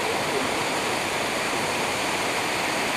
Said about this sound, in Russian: А река течет дальше.